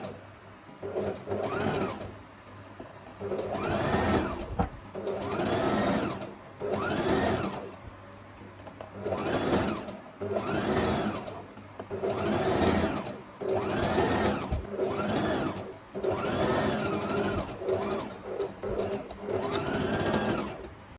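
A sewing machine stitching the seams of a half circle flare maxi skirt, running in repeated short bursts of whirring with brief pauses between, close and clear with no talking.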